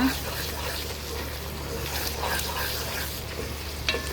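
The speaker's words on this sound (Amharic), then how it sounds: "እያማሰልኩ ያኔ እስከሚበስል ድረስ ለትንሽ ደቂቃ ተዋለሁ ማለት ነው።" Chicken stew with salsa is stirred in a frying pan, giving a steady soft sizzle with scraping and stirring sounds underneath a person talking throughout.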